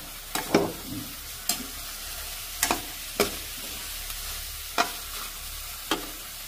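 Bitter gourd (ampalaya) with egg fries in a pan with a low background sizzle, broken by sharp spatula taps and scrapes about once a second.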